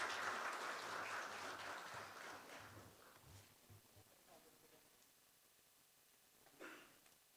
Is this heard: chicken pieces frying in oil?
no